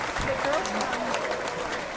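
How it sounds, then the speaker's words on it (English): A short burst of canned applause from a studio applause button plays under overlapping chatter and laughter, the clapping moderate and brief. "applause button, yes"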